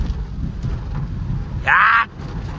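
Heavy rain pours steadily in a dense, rushing hiss, with a brief high-pitched tone cutting in near the end.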